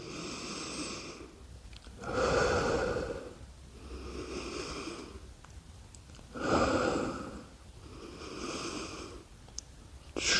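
Heavy, rhythmic breathing during a pilates exercise: slow, deep inhales and exhales, close and audible, cycling in regular waves of about two seconds with no talk.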